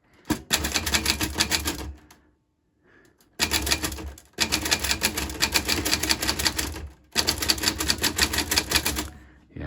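A poorly adjusted Smith Corona manual typewriter is typed on in three loud, close bursts of rapid, uneven key strikes with clacking slugs, broken by short pauses.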